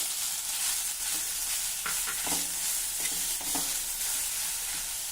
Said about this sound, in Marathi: हे नारळ आता अर्धा मिनिटासाठी जरा परतून घेऊ